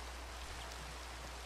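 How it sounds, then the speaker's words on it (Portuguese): Steady, soft rain hiss in Minecraft, a continuous even wash of falling drops at low level with no talking. "Ah, não para de chover aqui."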